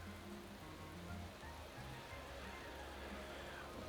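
Steady hiss of rain in Motorsport Manager during a German Grand Prix, a constant wash with a low engine hum beneath it, no distinct drops standing out.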